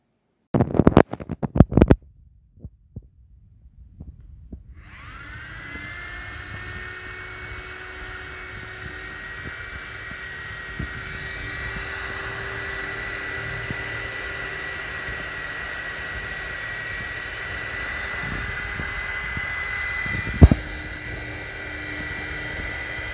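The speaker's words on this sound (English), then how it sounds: "We're going to we're gonna drill holes and put it in real quick" A power drill bores holes in a DIY virtual pinball cabinet to mount a digital plunger, a steady close whine that holds alone for nearly twenty seconds after a few sharp knocks at the start, with one loud thump near the end.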